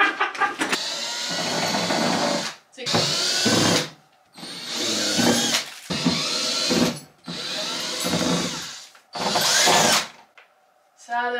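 A power drill whirs in several loud bursts of one to two seconds each, separated by short pauses, while brackets for window blinds are fitted in a newly moved-into home.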